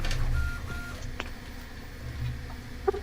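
A printer runs close to the microphone in a room: its motor hum and mechanical whirring shift through the stretch, with a few short beeps and clicks and a sharp tick near the end.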